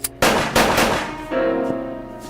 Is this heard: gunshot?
yes